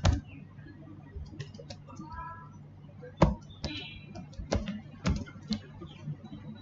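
Someone types a web address on a computer keyboard, producing scattered sharp key clicks in irregular bursts, close by, over a faint low background hum.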